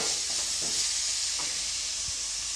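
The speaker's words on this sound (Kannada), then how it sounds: "ಪ್ರತಿಯೊಂದು ತರಕಾರಿನೂ ಹಾಕಿದ ಮೇಲೆ ಎರಡರಿಂದ ಮೂರು ನಿಮಿಷ ಚೆನ್ನಾಗಿ ಫ್ರೈ ಮಾಡ್ಕೊಳ್ಳಿ" Vegetables frying in a pan for masala bread toast give off a steady, close hiss and sizzle, with a few soft stirring scrapes and one low knock near the end.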